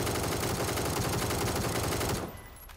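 Rapid gunfire in PUBG as a player shoots at a chicken, a dense burst of loud shots for about two seconds that then cuts off abruptly, leaving faint background.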